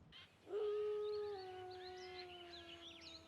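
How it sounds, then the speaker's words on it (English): Timber wolves in Austria howl in long, sustained, gliding tones that overlap and layer into a loud, close chorus with no talking. "how often specific wolves are howling and how long their howls are"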